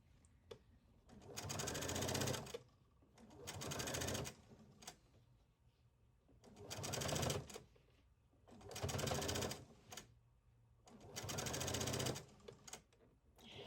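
A sewing machine stitches a seam in a cotton Hawaiian shirt, running in five separate bursts of a second or two each with quiet pauses between, fairly close but soft overall.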